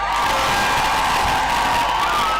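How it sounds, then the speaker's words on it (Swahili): A large crowd at a Nairobi political campaign gathering applauds and cheers in a dense, continuous roar of clapping and shouting, loud and sustained throughout. "nataka kuwapigia, mjipigie makofi"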